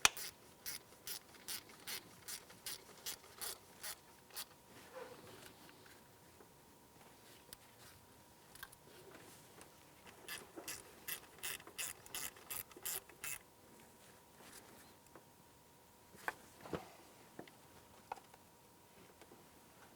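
A socket ratchet tightening bolts on a 2007–2013 Acura MDX engine, with rapid bursts of crisp clicking pawl strokes in several runs, close by and alone, separated by brief pauses and a couple of metallic knocks.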